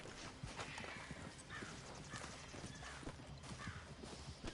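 Horse hooves clip-clop in a steady rhythm in Red Dead Redemption 2, a western video game, moderately loud against a busy background of ambient game sound, with no talking.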